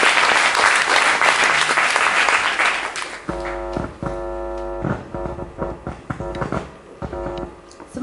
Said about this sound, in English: I think Gwen and the other two speakers deserve a round of applause.